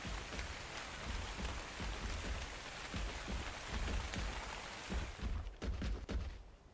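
Steady rain pours in the survival video game ARK, a dense hissing wash that runs for several seconds before thinning abruptly into scattered drips near the end.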